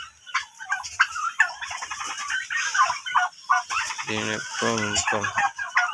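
Large turkey cocks of 8 to 9 kilograms gobble and cluck loudly at close range, with rapid rattling gobbles bursting out among scattered fowl calls.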